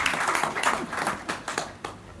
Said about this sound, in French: Applaudissez pour les syndicalistes.